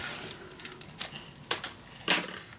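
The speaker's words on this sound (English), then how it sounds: "I'm gonna peel off my tape" Masking tape being peeled away from paper and chipboard while a scrapbook mini album is assembled, giving a few short, dry crackling rips close by, alone without talk.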